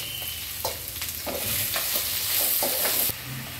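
Tomatoes and curry leaves fry in a pan, a close, continuous sizzle with irregular stirring scrapes and soft knocks of a spoon against the pan.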